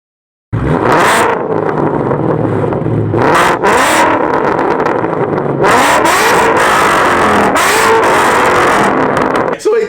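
A supercharged V6 car engine revs loudly through its exhaust, the roar swelling and dropping in repeated bursts close by, with voices faintly audible underneath.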